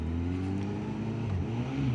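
A 2025 Honda CB1000 Hornet motorcycle idles with a low, steady engine drone, rising slightly in pitch as it revs while caught in false neutral, close and continuous with no talking.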